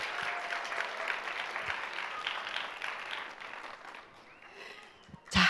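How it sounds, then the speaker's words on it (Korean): Applause from an audience at a school graduation and orientation ceremony for students, a steady wash of clapping that fades out over a few seconds before a sudden loud thump at the end. "열심히 노력한 모든 친구들에게 박수"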